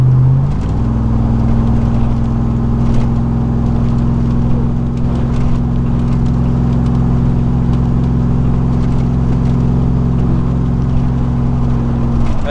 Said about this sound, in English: it's straight through exhaust